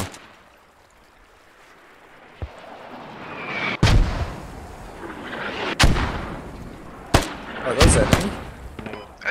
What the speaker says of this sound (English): Are those friendly mortars or those enemy mortars coming down?